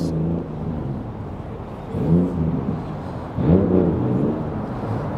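A stock first-generation Honda NSX fitted with second-generation wheels rolls into a parking area with a steady low engine drone, swelling twice as it nears, over constant background rumble.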